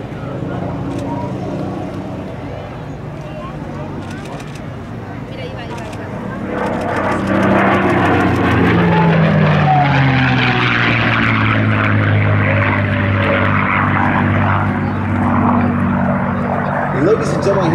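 A P-51 Mustang warbird with a piston engine and propeller roars past at an air show, swelling loud from about seven seconds onward with a shifting, Doppler-like engine drone over a steady outdoor rumble.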